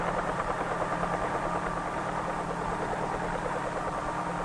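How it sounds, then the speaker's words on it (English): A 1953 helicopter's rotor blades spin as it lifts off and hovers, giving a continuous loud engine drone with a fast, even rotor throb that holds steady throughout, with no talk. "When the blades move fast enough, they provide the lift necessary to raise the helicopter off the ground and permit it to hover."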